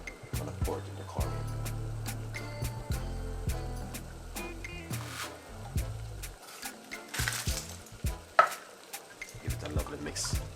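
Cornmeal and coconut milk are stirred in a container, giving repeated scraping and tapping clicks of a utensil against its sides in an irregular rhythm, close and moderately loud.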